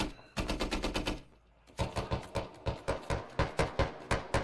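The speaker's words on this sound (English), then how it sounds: "Turtle taking some pot shots at the lads inside" Gunfire in a multiplayer military shooter game, bursts of rapid automatic shots close and loud, a short volley, a pause, then a longer steady string of single shots.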